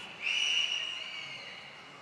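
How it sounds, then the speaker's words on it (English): A high whistling tone sounds indoors during a winter storm, rising sharply, holding strongly for about half a second, then fading into a weaker sustained whine. "that whistling in-house is as loud as you hear it"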